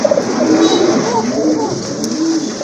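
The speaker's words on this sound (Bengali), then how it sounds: "অনেকদিন পরে দেখলাম এক জোড়া অ্যারাবিয়ান কোকা কবুতর" A pair of Arabian Coca pigeons coo steadily at close range, with low, rolling calls repeating through the moment.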